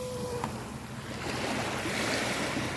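Waves wash steadily onto a pebbly shore on a fine day, a broad continuous surf hiss with some wind noise, swelling slightly louder toward the end, with no voices.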